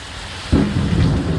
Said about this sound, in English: God, this rad storm just does not want to let up.